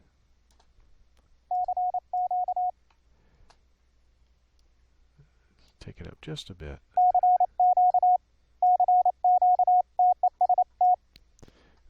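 Filtered square-wave Morse code tones come from a software keying setup. Short bursts of steady beeping sound in groups, with a brief spoken remark and some fumbling noise between them.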